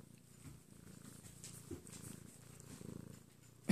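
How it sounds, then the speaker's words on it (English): A cat purrs softly and steadily in close, quiet rumbling pulses while resting on a lap, with a small bump at the end. "Can you hear her purr?"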